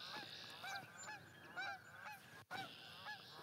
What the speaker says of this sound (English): There's our Canada geese.